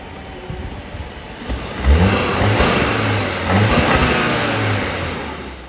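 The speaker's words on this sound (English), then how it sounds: "Now let's take a listen to that engine." An Audi A4 engine revs up twice, climbing in pitch with a throaty roar between smoother steady running, close and loud, no talking.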